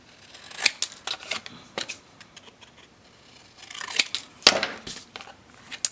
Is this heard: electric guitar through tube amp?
no